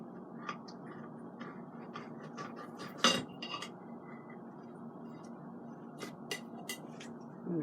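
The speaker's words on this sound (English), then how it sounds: "going to cut this steak" A knife and fork cutting a grilled T-bone steak on a plate, with soft scraping and scattered light clinks of cutlery, one louder clank midway, fairly quiet and close.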